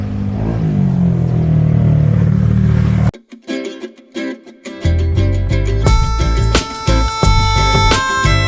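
A Yamaha NMax 155 scooter being moved near a river site, with a running engine rumble, then a break, clattering handling noises and a brief rev, close by.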